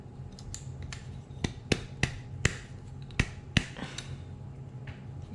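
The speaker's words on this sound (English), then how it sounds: "You can mess with the bolt just a little, kind of shimmying it to get this thing loose." A Desert Eagle .50AE bolt is worked loose from its slide by hand, giving about eight sharp, close metallic clicks at irregular intervals over a low background hum.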